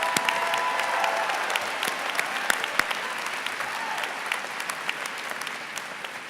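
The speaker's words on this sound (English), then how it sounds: "So can we get a round of applause for Mr. Rapp?" Sustained applause from an audience at a school ceremony, dense steady clapping throughout with a few sharper individual claps standing out, gradually easing toward the end.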